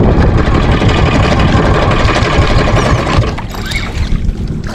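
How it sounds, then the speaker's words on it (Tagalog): A boat engine runs loud and close during trolling off Cagbalite Island, a steady rumbling drone that eases slightly toward the end as sea noise and faint voices come through. "Patay mo na ang makina."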